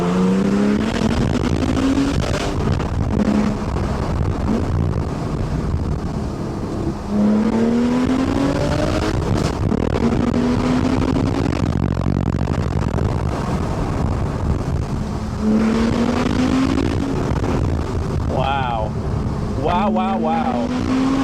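A Porsche 911 (991.1 Carrera) with an Akrapovic titanium slip-on exhaust roars and revs in repeated rising sweeps as it accelerates through the gears, loud and close, with muffled interior noise throughout.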